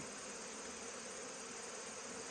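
Honey bees drone around hive boxes in a dense, continuous buzz, close and steady with no pauses, filling the whole moment.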